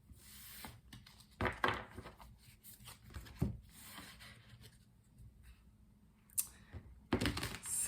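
Tarot cards being shuffled by hand, with soft papery rubs and riffling bursts coming in uneven clusters close up, separated by quiet gaps and with no talking.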